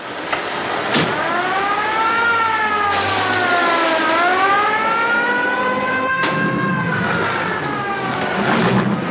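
A wailing ambulance siren rises and falls in a slow sweeping tone, loud and close, with engine noise and a couple of sharp clicks.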